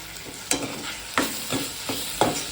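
Onions frying with ginger garlic paste and green chili in a pan, with about four distinct scraping stirs spaced roughly a second apart over a steady, moderate sizzle.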